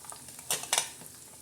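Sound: onion added to cumin and garlic tempering, sizzling

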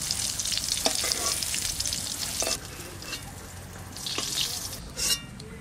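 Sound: eggplant frying in a pan

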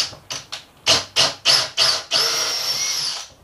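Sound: power drill drilling white masonite

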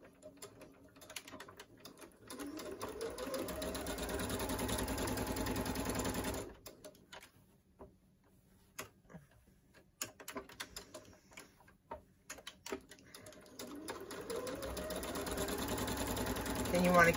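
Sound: sewing machine backstitching fabric face mask

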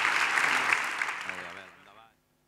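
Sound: applause

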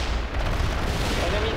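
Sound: gunfire from the video game World in Conflict

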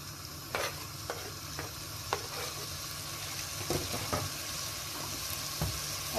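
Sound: cabbage added and stirred in a frying pan

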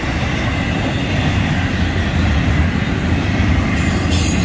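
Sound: Florida East Coast Railway train passing

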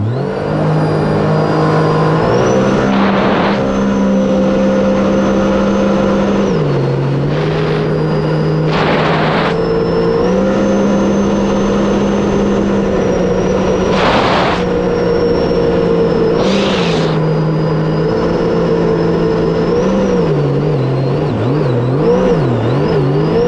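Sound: jet ski with Riva Racing intake manifold girdle at full throttle

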